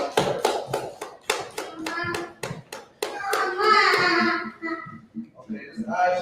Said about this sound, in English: Clap it up to the young man.